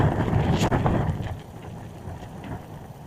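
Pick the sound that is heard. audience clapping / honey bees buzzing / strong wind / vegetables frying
strong wind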